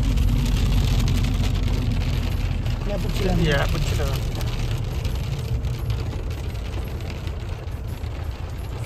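Steady heavy rain on the Jot road in Chamba, India drums on a surface in a dense, continuous rush, while someone talks briefly over it partway through.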